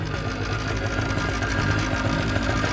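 A paramotor's small engine revs hard and steady at full throttle, a continuous loud buzzing drone with no pauses, close by.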